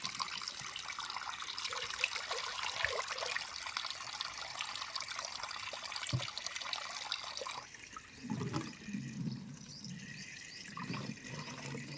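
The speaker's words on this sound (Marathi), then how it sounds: "पाणी भरत आहे पाणी भरणार का बॉटलमध्ये" Running water pours and trickles steadily into a bottle, then the flow changes pitch and gurgles as it fills near the end.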